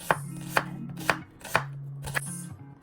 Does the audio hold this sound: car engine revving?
no